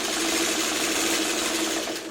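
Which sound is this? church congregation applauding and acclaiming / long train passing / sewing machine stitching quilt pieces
sewing machine stitching quilt pieces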